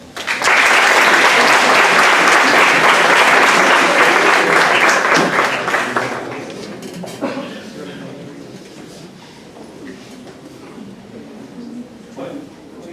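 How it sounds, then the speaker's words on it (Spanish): Loud audience applause in a lecture hall following the introduction of a guest speaker at a psychology master class, sustained for about six seconds before fading into scattered claps and room noise. "Brindemos para él un fuerte aplauso."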